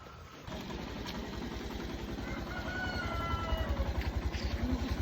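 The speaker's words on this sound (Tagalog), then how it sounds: "Andun ang tricycle sa labas." A motorized tricycle engine idles steadily with a low, rapid putter that grows slightly louder toward the end, with no voices over it.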